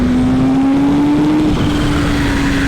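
A Kawasaki H2 motorcycle engine pulls hard under acceleration, a loud, steady drone with a single pitch that climbs gradually, backed by heavy wind rush, with no talking.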